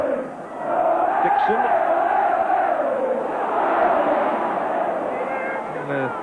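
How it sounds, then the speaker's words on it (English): A rugby league crowd roars loudly and continuously at a Leeds versus Featherstone Rovers match in 1991, a dense swelling wall of cheering with a commentator talking over it. "you can sense it with the crowd as well. They're really roaring."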